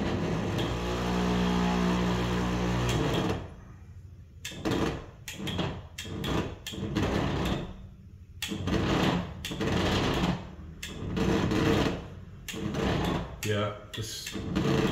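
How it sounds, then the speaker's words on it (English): A stepper motor in DIY ESP32-controlled motorized window blinds strains and slips without enough torque to turn, giving a steady, close buzzing hum for about three seconds, followed by someone talking over quieter clicks and shuffles. "the stepper motor is trying to move, but it just doesn't have the torque to turn"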